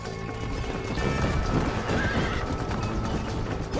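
Horses in Red Dead Redemption on PS4 Pro whinny and neigh over steady galloping hoofbeats during a wagon ride, loud and continuous, with a wagon rumbling beneath.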